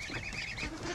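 Relaxed domestic ducklings of different sizes, hatched at home, honk and quack in a steady close chorus with overlapping calls throughout.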